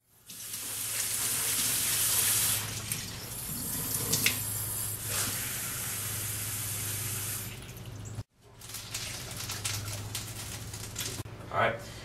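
Hot water pours steadily from a kitchen tap while making an Aztec fudge cake, a broad rushing hiss that stops briefly near the end before resuming, with faint voices underneath.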